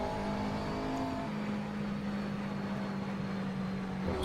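A race car engine in the Assetto Corsa driving game, lapping Sebring International Raceway, holds a loud steady high-pitched drone with a brief gear-shift dip and a rev rise near the end.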